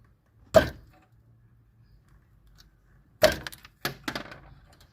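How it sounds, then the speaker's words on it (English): A wrench prying a brittle old rubber cap off the clutch bleeder on a first-generation Toyota RAV4 gives one sharp crack, then after a pause a cluster of three quick snapping clicks, close and alone. "I'm prying that rubber cap off with the wrench."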